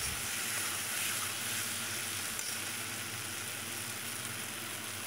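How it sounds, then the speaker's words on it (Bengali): Steady close sizzle of Bengali egg and pointed gourd curry frying in a pan, continuous and even throughout with one faint clink midway, no voices. "চিনিটা দিয়ে আর একটু কষিয়ে নেব ভালো করে"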